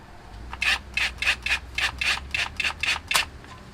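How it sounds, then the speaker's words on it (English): Power drill running bolts into a Mitsubishi 4G63T engine during a first-time build, about ten short, evenly spaced bursts of whirring close by, with no talk. "I'm just gonna run these in with the drill, not really torque it"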